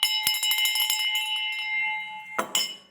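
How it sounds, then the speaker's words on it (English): A victory bell rings out in a rapid burst of bright metallic strikes with long overlapping resonance, then two more sharp clangs follow near the end. "you ring the victory bell"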